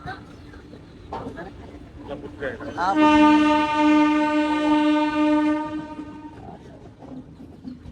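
A train horn blares loud and sustained for several seconds nearby, over rumbling rail noise, on a Madurai to Bodi train journey, with people talking briefly before it sounds.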